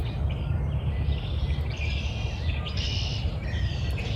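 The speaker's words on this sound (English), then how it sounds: "You can hear the birds everywhere." Birds chirping in a garden in early spring, several small calls scattered over a steady low rumble of background noise, fairly faint and distant.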